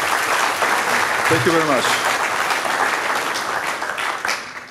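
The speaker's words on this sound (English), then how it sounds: "Could you applaud it, sir?" Audience applause at an Ariane 5 satellite launch ceremony, a steady broadband wash of clapping that fills the whole clip and slowly fades at the end, with someone briefly speaking over it.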